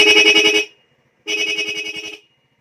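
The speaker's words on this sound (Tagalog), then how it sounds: "Tignan nyo naman yung kanyang loud horn." Two loud horn blasts from a Suzuki Smash motorcycle's stock dual horn, a short one then a longer one after a brief pause, harsh and buzzy with a dual-tone blare, close by.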